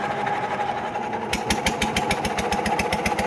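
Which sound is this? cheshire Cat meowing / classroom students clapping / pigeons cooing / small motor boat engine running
small motor boat engine running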